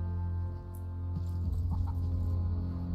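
A chicken in the farming survival game The Last Farmer gives a few soft clucks over a steady low game ambience and hum, with no talking.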